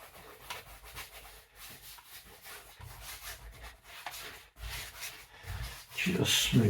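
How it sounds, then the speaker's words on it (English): A hand rubbing and smoothing paint across a wobbling canvas makes soft, close, irregular scuffing strokes in short bursts, with a brief louder rub near the end. "Just smooth things over with my hand."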